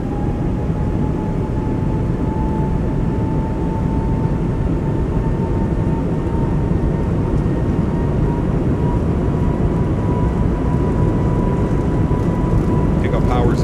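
Airbus A220 twin jet engines spooling up to takeoff power in a flight simulator, a steady loud roar with a rising whine held throughout, under cockpit ambience.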